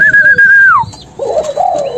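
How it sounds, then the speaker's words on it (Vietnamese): A pair of hand-raised Malaysian pigeon chicks beg for food while being fed, giving loud, near, drawn-out whistling peeps that slide downward, followed by a rougher, buzzy cooing call. "Cái cặp mình lên đòi ăn nè."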